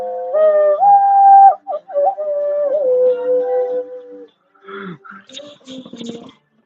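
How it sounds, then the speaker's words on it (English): A person produces a hollow, tonal whistle through cupped hands, sliding between pitches for a few seconds, followed by brief breathy noises and murmuring. "I can do the fist whistle"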